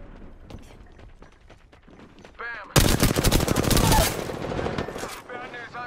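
Rapid automatic gunfire in Apex Legends, a loud sustained burst of close shots following quieter footsteps and scattered sounds, with faint voices nearby.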